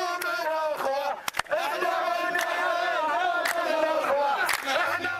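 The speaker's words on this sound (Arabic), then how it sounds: "هتافات أطلقتها حناجر المتظاهرين تطالب الحكومة السعودية بسحب قوات درع الجزيرة من البحرين" A large street crowd of men and women protesters in Awamiya, Saudi Arabia, chants slogans in loud rhythmic unison, with sharp claps and shouts punctuating the chant throughout.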